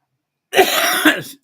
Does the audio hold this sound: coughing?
yes